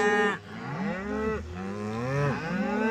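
Cattle moo repeatedly and loudly as cows are sorted away from their calves at a ranch, long drawn-out bellows overlapping one another with no talk.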